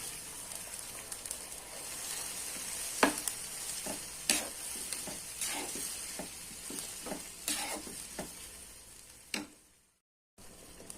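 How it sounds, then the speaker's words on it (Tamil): Boiled vegetables with their cooking water pour into a hot pan with a sizzle while making veg saagu, followed by repeated scraping and stirring clatters, then sudden silence. "இப்போ நம்ம இந்த வேக வச்ச காய்கறியை தண்ணியோடய ஊற்றிக்கலாம்."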